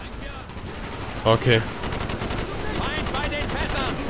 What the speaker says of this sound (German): Die schießen jede Sekunde auf mich.